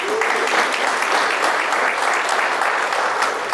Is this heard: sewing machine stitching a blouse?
no